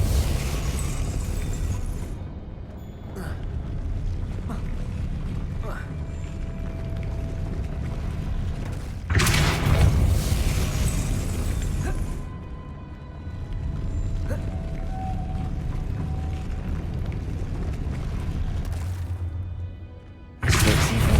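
The Depulso force spell is cast in Hogwarts Legacy: loud whooshing bursts punch through a steady rumbling, creaking mechanical ambience, one burst sustained for a few seconds and another brief one near the end, with no talking.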